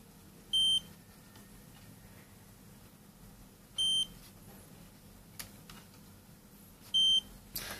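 Beeper on a Sparkfun module, with a 180-ohm resistor in series, gives three short, clean beeps spaced about three seconds apart over a quiet background hiss, close and with no talk.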